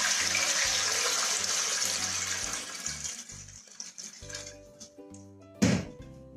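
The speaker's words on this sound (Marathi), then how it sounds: "ड्रम मधले पाणी असे ओतून काढायचे" Water poured from a heavy drum into a pot, a steady broadband gush that thins toward the end, with a sharp splash or knock near the close and faint tonal background hum.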